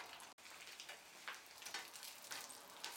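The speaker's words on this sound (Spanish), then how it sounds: "Chiles guajillos a tostar en poquito aceite." Guajillo chiles toasting in a little hot oil in a pan give a soft, steady sizzle with light crackles, close and continuous, broken once by a brief gap.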